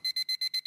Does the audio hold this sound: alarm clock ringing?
yes